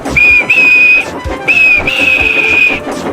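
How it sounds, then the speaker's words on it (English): A steam locomotive's steady, high whistle blows in two long blasts with a short gap between them, loud and close, over rumbling background noise. "And he blew his whistle."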